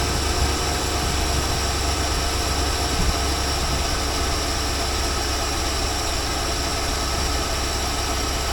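A 1963.5 Ford Falcon Sprint engine idles steadily with a continuous low rumble and broadband mechanical noise, close and loud with no voices over it.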